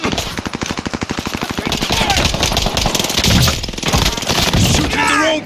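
Rapid automatic gunfire in the Call of Duty Warzone video game, loud continuous bursts of rattling shots filling the whole stretch with barely a pause, close and dense.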